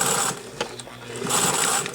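A sewing machine back tacks a French seam, running in two short bursts of rapid mechanical stitching with a brief pause between, close and clear with a whirring motor and clicking needle.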